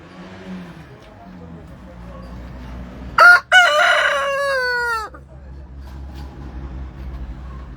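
A rooster crows once on a small farm, loud and close, a long rising and falling call over a low background rumble.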